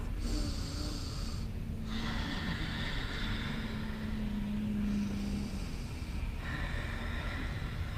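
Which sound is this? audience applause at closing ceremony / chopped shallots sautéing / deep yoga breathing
deep yoga breathing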